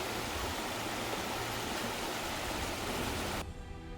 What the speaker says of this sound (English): The River Kent at Cowan Head.